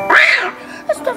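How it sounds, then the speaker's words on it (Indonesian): A startled cat on a house terrace lets out a loud, close, drawn-out angry yowl that rises and falls, followed by a couple of short sharp hisses or growls. "kucingnya marah"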